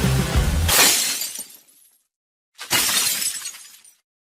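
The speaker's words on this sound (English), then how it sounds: "Break the glass." Two loud glass-shattering sound effects crash one after the other, each a sharp burst of breaking glass that rings out with tinkling shards before fading to silence.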